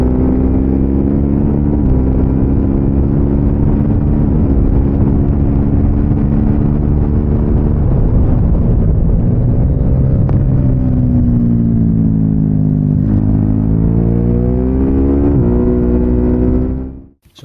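A motorcycle on the Donington Park circuit holds a loud, steady engine roar under hard throttle out of a corner toward Hollywood and Craner Curves, the pitch climbing and falling through gear changes before cutting off abruptly.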